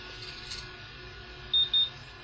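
A powered EPROM eraser gives two short, clear electronic beeps in quick succession near the end, over a faint steady hum.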